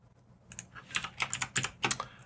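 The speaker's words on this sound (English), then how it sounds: "Alt, Shift, and A on your keyboard will add" Computer keyboard keys pressed in quick succession for a shortcut, a crisp run of close clicks and taps in an irregular rhythm.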